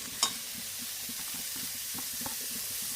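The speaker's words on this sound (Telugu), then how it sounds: "మష్రూమ్స్ వేసిన తర్వాత ఇవి కూడా బాగా ఫ్రై చేయాలి" Mushrooms fry in a pan for a mushroom soup with a soft, steady sizzle. Light stirring clicks sound close by, with one sharp clink near the start and no speech.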